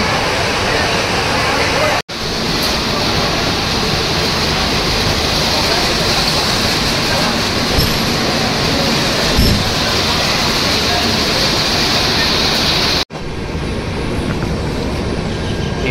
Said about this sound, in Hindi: ऑन टाइम हमारी गाड़ी सूरत रेलवे स्टेशन के प्लेटफॉर्म नंबर 1 से निकलते हुए